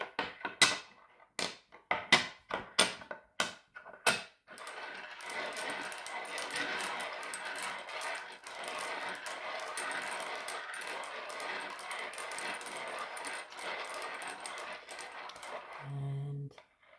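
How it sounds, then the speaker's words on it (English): Coins for an I Ching reading clink sharply in a quick run of separate metallic taps, then give way to a longer, softer jumbled rattle of shaken coins, close and fairly quiet. "And then turn the coins again."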